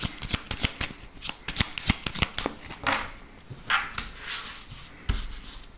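Cards being shuffled for a French-language tarot reading, with a run of crisp, rapid riffles and flicks that come close and fairly loud, broken by a few short pauses, and no speech.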